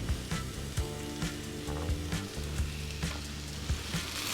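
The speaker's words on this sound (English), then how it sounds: "In goes a little bit of oil. In goes the mushrooms, the red onion," Mushrooms and red onion fry in oil in a pan over medium-high heat, giving a steady close sizzle with occasional soft clinks from a utensil throughout.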